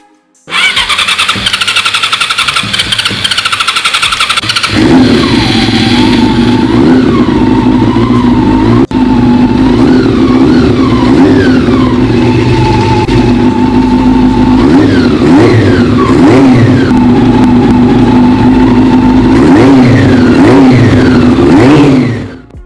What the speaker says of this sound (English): We're finally ready to start this 4-cylinder engine.